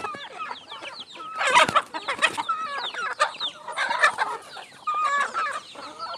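Criollo hens cluck and squawk close around a person on a farm, a busy overlapping chatter of near, moderately loud calls.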